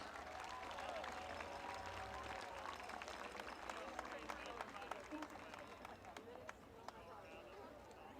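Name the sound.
crowd applause for the Charleston Panthers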